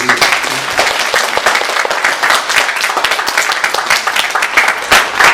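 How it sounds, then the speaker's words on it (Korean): A church congregation applauds during a Sunday worship service, dense steady clapping from many hands filling the room, loud and sustained with little talk over it. "다시 한번 박수 주시고"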